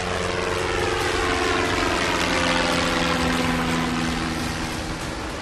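A Chetak helicopter flying over the sea gives a loud, steady rotor and engine drone with a constant low throbbing hum and no voices.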